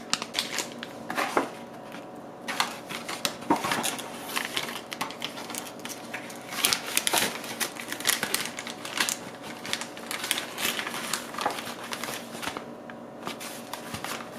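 Crinkly rustling and sloshing as a plastic MRE pouch with water inside is shaken repeatedly, close by, in uneven bursts with brief pauses.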